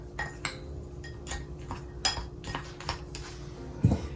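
Peanut streusel with a quarter cup of peanuts being mixed in a bowl, giving a quiet run of irregular utensil scrapes and clinks against the bowl with a slightly louder knock near the end.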